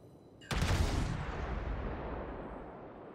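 A battleship's main guns fire high explosive shells in the World of Warships naval game: one loud, booming salvo strikes suddenly, then a long rumbling roll fades out over several seconds.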